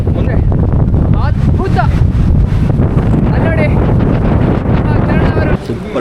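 Strong wind buffets the microphone on the Ramakkalmedu hilltop, a loud continuous roaring rumble with people talking faintly underneath throughout.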